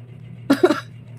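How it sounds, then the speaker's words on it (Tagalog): A single short, sharp cough, close and fairly loud, standing alone against a quiet low hum. "Pati yung ubo ko, na-excite"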